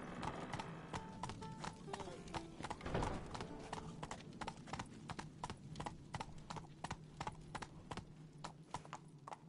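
Roach, Geralt's horse in The Witcher 3, gallops with a rapid, even clip-clop of hooves throughout, each beat crisp and close, over a low ambient background with a brief breathy burst near the start.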